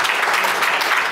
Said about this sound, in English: we still can give Benjamin Schierbarth an applause for bringing.